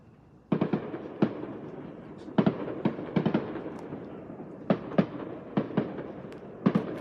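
Fireworks going off after a first baseball game in Edenton, heard as a series of sharp bangs and pops in irregular clusters, moderately distant, with echoing crackle between bursts and no talk.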